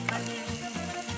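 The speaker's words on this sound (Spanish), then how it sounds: "Ahí cómo están hirviendo la papita esa." Potatoes boiling in a pot outdoors at a night-time barbecue give a continuous bubbling, sizzling hiss with low rumbling underneath, fairly close and steady, with no speech.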